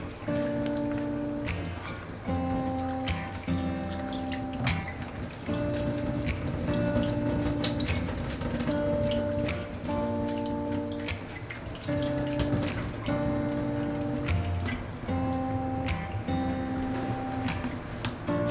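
Running water pours steadily over fish bones from a red horsehead fish as they are rinsed at a sink, with a continuous close splashing broken by brief clatters, and no voices are heard.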